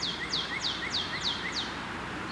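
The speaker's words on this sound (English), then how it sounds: "Listen to the birds in the background." Repeated high chirping bird calls, about six evenly spaced phrases, sound over a steady outdoor background hiss at moderate distance.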